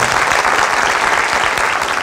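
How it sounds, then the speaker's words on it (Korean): Loud, dense audience applause fills a Taekwondo lecture hall, a steady wash of clapping hands sustained evenly throughout with no speech. "박수 한번 보내주십시오."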